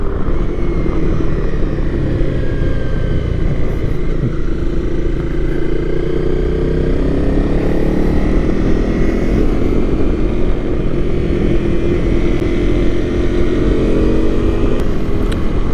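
A Honda CRF 250 Rally motorcycle is ridden at speed on the road, its engine droning loud and steady with shifting pitch and constant wind rush throughout, and no voices.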